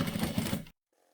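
A sewing machine stitches a quarter-inch seam on a sewing machine mat with a fast, steady mechanical whir and needle tapping close by for under a second before stopping abruptly into near silence.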